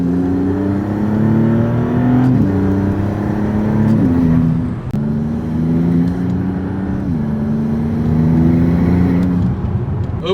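A Maserati's engine revs under a loud exhaust note, pitch climbing and dropping in repeated waves as the car accelerates through gear changes, steady and close with no talking.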